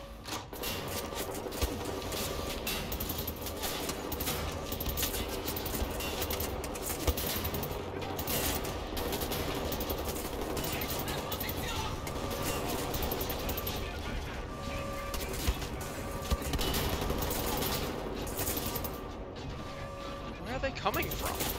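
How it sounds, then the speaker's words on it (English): Sustained automatic assault rifle fire in the shooter Wolfenstein: The New Order, dense and continuous bursts layered with game music and mechanical clatter, running loud throughout without pause. "I'm running out of fucking assault rifles to shoot it with."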